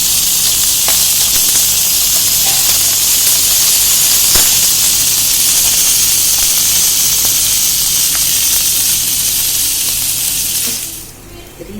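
Fish fries in hot oil, a loud, steady, dense sizzle and hiss close by, running almost the whole time before suddenly dropping away near the end.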